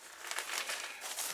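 Continuous crinkling and rustling of plastic packaging being unwrapped from model plane parts, with tape being cut away, close and steady for a brief stretch.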